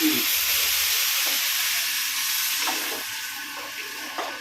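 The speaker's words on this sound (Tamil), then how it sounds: "தண்ணி கொஞ்சம் ஊற்றுறேன்ப்பா." Water poured into a hot cooking pan while making ivy gourd (kovakkai) kuzhambu with rock salt gives a loud, steady steam hiss that tapers gradually over a few seconds, with no talking.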